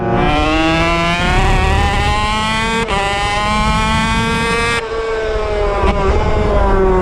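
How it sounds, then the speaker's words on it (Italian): Two-stroke racing motorcycle on a racetrack, loud and close, holding a high engine note with sharp gear changes and a pair of quick downshift throttle blips near the end. "la doppietta come ai vecchi tempi, che roba stupenda"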